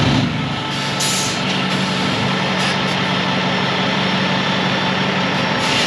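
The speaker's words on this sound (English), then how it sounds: "You gotta take the air brake off" A heavy truck's air brake being released, heard as a loud, steady rush of air and low engine rumble that holds for the whole stretch with no break.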